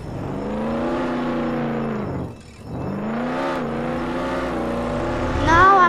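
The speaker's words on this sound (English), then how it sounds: "I'm driving to my Ray car." A Lamborghini's engine revs and whirs as it drives, rising and falling in pitch twice with a brief dip between, loud and close, with faint talk.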